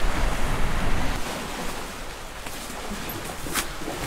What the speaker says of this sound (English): What an amazing beach this is.